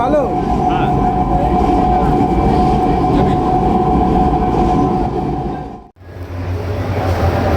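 A train running on the rails in West Bengal makes a loud, close, continuous rumble and rattle with a steady hum. The noise drops out briefly near the end, then the heavy roar returns.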